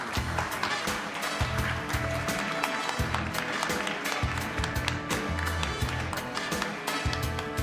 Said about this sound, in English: Give them a round of applause and bring them on stage